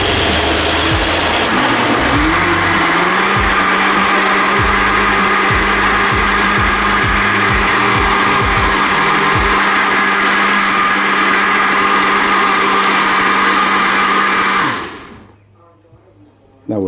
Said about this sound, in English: Okay, so there's the blender.